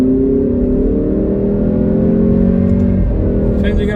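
A 2021 Alfa Romeo Stelvio Veloce with a 280 bhp engine pulls hard under acceleration, its engine note rising steadily in pitch before a gear change, heard loud from inside the cabin.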